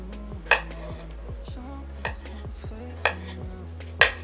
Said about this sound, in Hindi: इसी तरह से हमने बाकी के कद्दू को भी काट लेना है